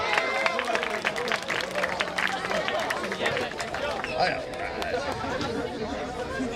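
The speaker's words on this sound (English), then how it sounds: "Give her a round of applause" Applause and cheering from a high school sober grad night crowd watching an illusionist's show, a dense wash of clapping and chatter that stays steady and fairly loud throughout.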